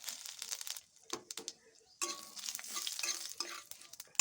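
Cumin seeds, bay leaf and a dried chilli sizzling in hot oil after broccoli was fried, heard as close crackling and spitting bursts that stop briefly, then come back stronger and denser.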